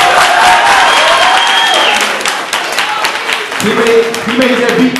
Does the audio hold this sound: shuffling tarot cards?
no